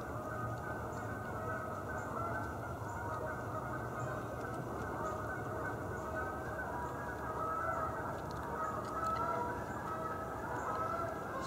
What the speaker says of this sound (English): Canada geese are in the lake over behind me.